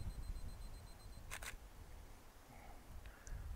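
A single-lens reflex camera fires its shutter on a 5-second self-timer, giving a quick double click, faint and close, over quiet room hiss.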